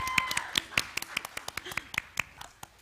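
A small group at an intimate apartment-style concert gives short, sparse applause, a dozen or so distinct sharp claps spaced unevenly over a few seconds at moderate volume.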